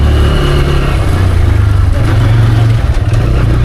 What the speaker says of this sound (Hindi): दौड़ाओ बाइक को